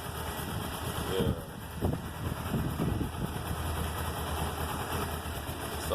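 A 2010 Kawasaki Ninja motorcycle engine idles nearby with a steady low rumble, a few brief bumps in level partway through.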